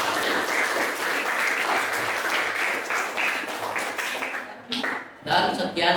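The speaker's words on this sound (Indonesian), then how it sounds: "Kasih tepuk tangan dulu." A classroom audience applauds after a group presentation, a loud round of clapping that fades in the final seconds as voices begin speaking.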